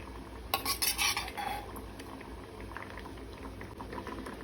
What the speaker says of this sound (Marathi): मीठ लावून दवरलेले ताल्ले घालता आणि ताल्ले घालता आसतना अशे पसरवून घालपाक जाय